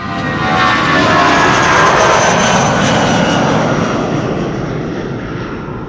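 A departing airliner at Amsterdam Schiphol Airport, an SAS flight to Oslo, roars loudly and steadily with broadband engine noise, holding near peak through the middle and easing slightly toward the end, with no talk.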